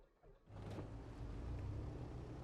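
Edgley Optica aircraft engines starting up in Microsoft Flight Simulator 2020, a quiet moment followed by a low rumbling engine that catches and settles into a steady, faint drone.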